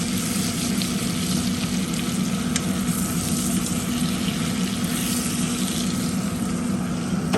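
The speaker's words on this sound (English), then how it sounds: "We're gonna give this steaks a nice quick flip." Steaks sizzle in a cast iron pan just after being flipped, a steady close, loud hiss of frying that runs unbroken throughout with no talk.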